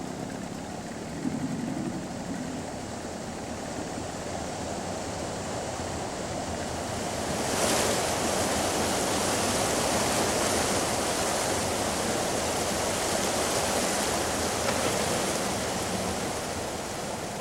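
Steady broadband rush of water from a waterfall of unknown source, pouring icy fresh water on a remote shore, growing fuller and louder partway through and holding as a continuous roar with no voices.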